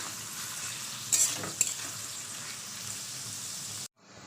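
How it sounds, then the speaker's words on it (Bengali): Five or six large onions fry in a pan, giving a steady close hiss of sizzling with a couple of brief stirring clicks before it cuts off abruptly. "তো পেঁয়াজটা আমি এবার লালি করে ভেজে নেবো।"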